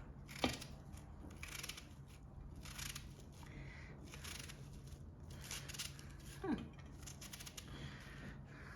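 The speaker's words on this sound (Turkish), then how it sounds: "soğanımı da şuna doğrayayım" Faint, scattered knife chops through an onion on a board sound against a low background hum, with a couple of sharper clicks.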